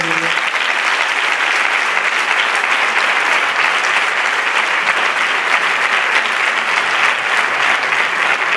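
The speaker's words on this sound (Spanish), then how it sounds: "Un fuerte aplauso para todos." A crowd at a tribute event for elderly people breaks into loud, sustained applause, a dense, even roar of clapping throughout with a brief voice at the very start.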